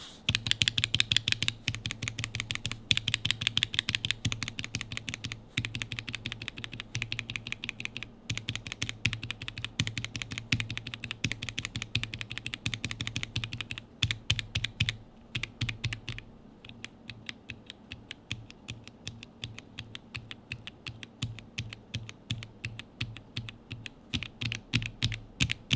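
Rapid typing on a mechanical keyboard fitted with Gateron Yellow linear switches, a steady stream of close, crisp keystroke clacks with a slightly deeper thock, continuing alone without speech for the whole stretch.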